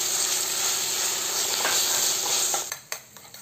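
Ginger garlic paste frying in a pan gives a loud, steady sizzle and hiss that cuts off near the end, leaving a few scattered clinks and scrapes.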